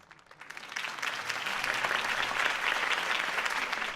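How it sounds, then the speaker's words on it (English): Steady crowd applause in a video game, rising quickly from a quiet start and holding at a full, dense level throughout. "could have heard that applause"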